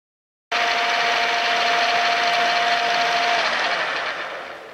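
A power drill bores steadily into wood, a loud continuous whirring grind that starts abruptly, holds a steady pitch for several seconds, then fades slightly as it eases off.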